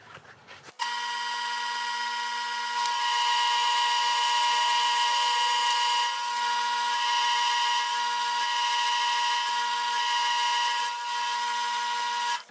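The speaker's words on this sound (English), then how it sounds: "I'm burnishing this right here" Power tool burnishing the edge of a leather clutch bag, a steady high-pitched whine running continuously with faint rubbing friction throughout, close and fairly loud with no talk.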